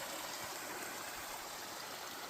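Fresh water from a small stream near Panuke Lake, Nova Scotia, runs with a steady, even hiss of flowing water at a campsite spot, continuous and fairly close.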